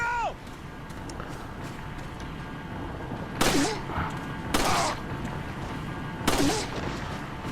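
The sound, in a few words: gunshots in the video game Resident Evil 4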